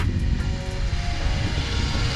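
A Trex 500x radio-controlled helicopter hovers and drifts in the open with a steady, loud rotor and motor whine and a constant buzzing drone, wind rumbling in the background.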